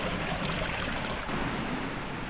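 Strong water rushes down an irrigation channel beside rice paddies, making a steady, dense hiss and roar that stays close and unbroken throughout.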